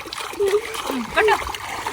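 A child splashing water while swimming in a tub, with short bursts of splashing mixed with voices in the brief, close-up moment.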